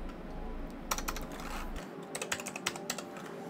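Quick bursts of keystrokes on a computer keyboard, close and crisp, with irregular clusters of clicks over a low background hum.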